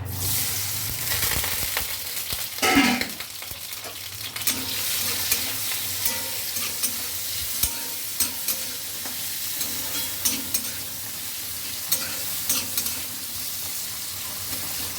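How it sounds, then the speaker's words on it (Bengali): Steady oily sizzling of boiled radish frying, with intermittent stirring scrapes and clinks, close by, with no voices. "মূলোটা একটু ভেজে নেব"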